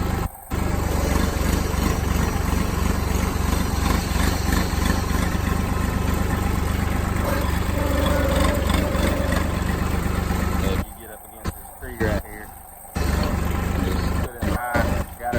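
A Honda GC170 small engine idles with a steady, close mechanical drone that runs unbroken for most of the stretch, then briefly stutters and cuts in and out near the end.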